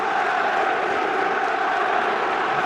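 Newcastle fans in a stadium crowd make a steady, dense roar of cheering and applause that holds at an even level throughout.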